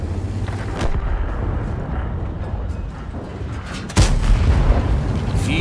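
A deep rumbling battle backdrop in World of Tanks with a few scattered shots, then one heavy, booming Super Conqueror tank cannon blast near the end, loud and close.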